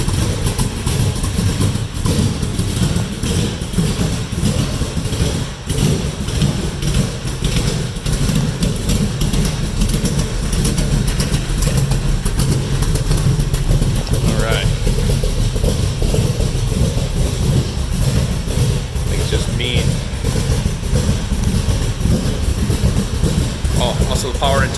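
A 1929 Ford Model A Tudor sedan street rod with an electric fuel pump runs steadily at close range, a loud, continuous rumbling idle with a few brief revs, while people talk over it.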